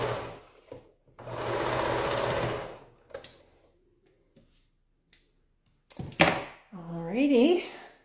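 A sewing machine stitches quilt pieces during a quilting sewalong in a steady burst of about two seconds, then stops. Brief clicks and handling noises follow, and a voice speaks near the end.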